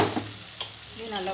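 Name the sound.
sautéing onion and tomato paste for kadala curry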